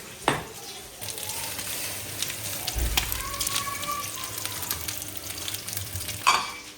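Food frying in a kadhai with stirring, a steady sizzle broken by a few scraping clatters of the utensil, heard close with no talk.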